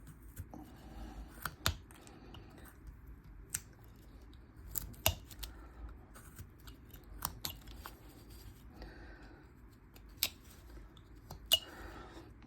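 A knife makes stop cuts into a wooden bust during hand carving, producing sharp, separate clicks and snaps scattered irregularly over quiet, close to the listener.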